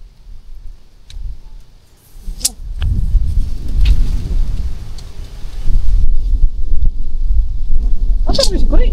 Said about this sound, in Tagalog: Ang hangin kasi mahangin.